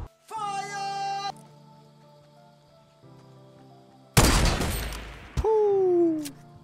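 Gunfire in the video game Fortnite: a dense, loud burst of shots in the middle, set between stretches of tonal game music and effects, with no talking.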